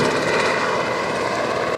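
Air Force Black Hawk helicopter flying on a search mission off the Hualien coast, a continuous loud rotor and engine roar that stays steady and close for the whole stretch with no voices.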